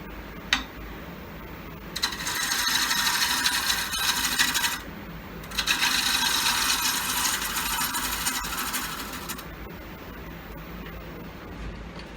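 A wood turning tool cuts an 18-inch walnut bowl on the lathe in two long hissing passes that scrape close and steady, with short pauses and a sharp tap between them.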